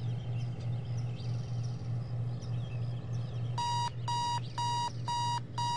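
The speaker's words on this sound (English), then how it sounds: "Oh, alarm, that's great." Alarm clock ringing in the video game Postal 2, a steady repeating burst of electronic beeps in evenly spaced groups, heard over a constant low hum and background game ambience.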